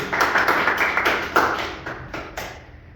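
Classroom applause for a student during a microteaching session: a short burst of rapid, close clapping from a small group that gradually fades out over about three seconds, with no talk.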